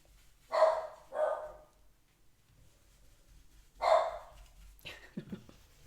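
A small dog barks at a noise outside, three sharp close barks with a pause between the second and third, followed by a short softer whine or yip at the end.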